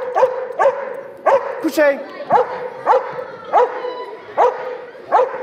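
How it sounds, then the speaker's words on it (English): A trained dog at an elementary school assembly barks at its ball, about eight loud, sharp barks in a steady rhythm, close by, with a trainer's brief spoken commands between them. "Now we're gonna have him bark at his ball."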